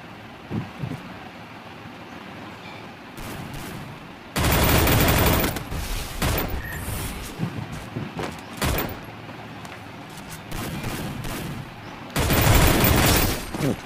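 Gunfire in Garena Free Fire, with loud sustained bursts of automatic fire in two long stretches separated by scattered single shots and quieter moments.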